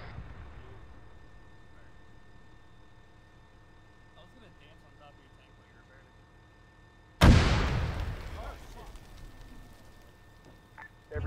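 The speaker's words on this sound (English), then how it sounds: "Challenger's cooking off." Challenger tank in Arma 3 with its ammunition cooking off, a low engine rumble under voices, then one sudden loud blast that fades into crackling and rumble, with a second bang at the very end.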